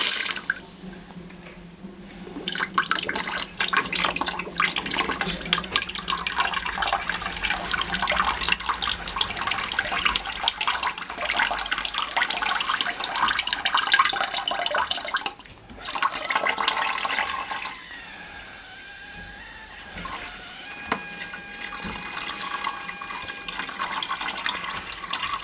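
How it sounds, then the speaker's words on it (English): Water drains from a combi boiler's magnetic system filter in a steady, loud gushing stream that runs for several seconds, briefly cuts out, then resumes with gurgling and a thinner trickle toward the end. "I'm just going to let some of that water out."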